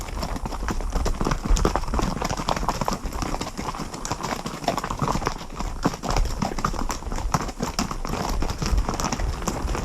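Horses carry riders along a mountain trail in the Río de Los Cipreses reserve in the Chilean Andes, their hooves clip-clopping steadily and loudly up close in a continuous uneven rhythm with no talk.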